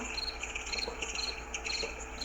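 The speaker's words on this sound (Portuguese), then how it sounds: "Era uma chuva, uma tempestade de grilos, de gafanhotos." A swarm of crickets and locusts as a sound effect: dense, continuous chirping with pulsing high trills layered over a low hum, steady and moderately loud, no voices.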